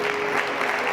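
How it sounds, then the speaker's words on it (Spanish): A Spanish-speaking church congregation claps in praise to God during a sermon, a loud, dense burst of applause that stays close and continuous for its short duration. "Den un aplauso a Dios por eso."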